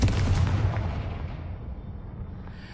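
A Confringo blasting spell detonating in Hogwarts Legacy: one loud, close explosive boom with a heavy low rumble that slowly fades away over a couple of seconds.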